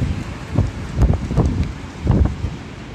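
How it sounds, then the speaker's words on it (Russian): Heavy summer downpour during a storm in Abakan, Khakassia, roars steadily with gusting wind and rustling bursts close to a balcony, no talking. "Вот такой дождь, вот такой, смотрите, крупный ливень."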